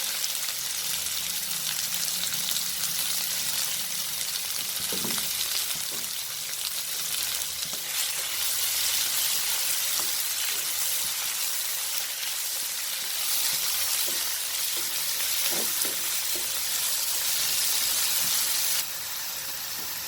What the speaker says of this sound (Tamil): இப்போ ஆட் பண்ணிட்டோம் அப்படின்னா தக்காளி ஈஸியாக வதங்கிடும், சீக்கிரமாக வதங்கிடும்.